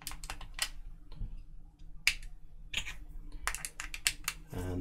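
Several sharp, solid plastic clicks from parts of an Xbox Elite Series 2 controller snapping into their seats, close up and in quick irregular bursts with short pauses between.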